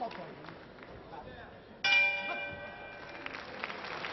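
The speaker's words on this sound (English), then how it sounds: "he'll be happy to hear the sound of the bell in just a few seconds" A boxing round bell rings out loudly at a championship bout, a bright metallic clang with a long sustained ring over steady crowd noise, followed by further rings as the arena murmur continues.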